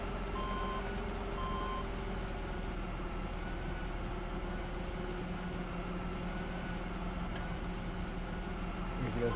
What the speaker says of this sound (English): Now I'll turn the truck around and get to the edge of the landing.